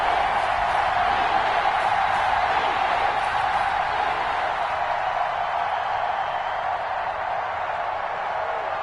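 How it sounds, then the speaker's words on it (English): Stadium crowd in an American football video game, a steady loud broad roar of cheering fans sustained throughout with no clear breaks. "the crowd getting into it as we come up on a big 3rd"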